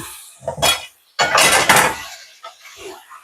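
A spoon clanks and scrapes inside a cooking pot of Malaysian Indian chicken curry, giving a few loud metallic knocks and a longer scraping stir, close by with no talking.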